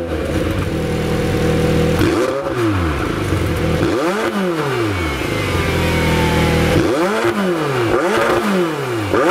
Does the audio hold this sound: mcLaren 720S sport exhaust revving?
yes